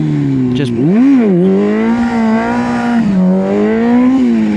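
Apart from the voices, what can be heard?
motorcycle engine revving during a wheelie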